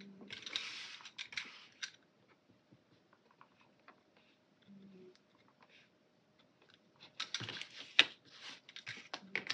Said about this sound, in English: And I'll just cut out around this flower.